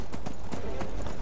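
Horse hooves clop rhythmically in the Skyrim video game, a fast steady gallop of several muffled thuds mixed with game background noise.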